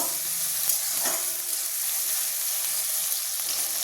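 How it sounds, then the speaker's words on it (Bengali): Chopped tomatoes fry in a pan for a potato and egg curry, giving a steady, soft sizzle with faint stirring scrapes throughout, close by and continuous with no talk. "টমেটোটা আর একটু ভাজা ভাজা করে নেব।"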